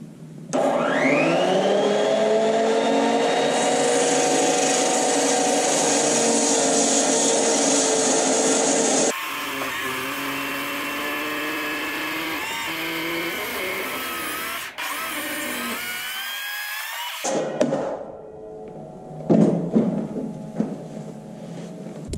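A saw with a 16 5/16 inch blade gang-cutting through four 2x rafters screwed together: a loud sustained whining cut lasting several seconds, the pitch dropping as the blade bites, then spinning down and stopping.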